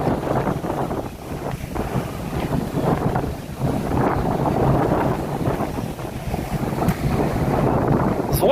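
Sea waves wash onto a Barcelona beach in a constant loud surge, mixed with heavy wind buffeting the microphone and no voices.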